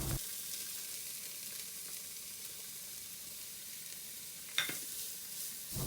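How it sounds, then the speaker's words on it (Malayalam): Chopped onions with curry leaves sauté in hot oil in a kadai for an Andhra-style chicken roast, giving a steady, even sizzle throughout with one brief stir or clatter near the end. "ഒണിയൻ നന്നായി വഴറ്റിയെടുക്കാം."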